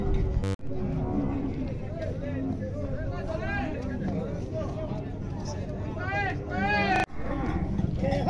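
Cattle mooing during livestock unloading in Tabira, Pernambuco, several close, repeated bellows rising and falling over crowd chatter and nearby talking.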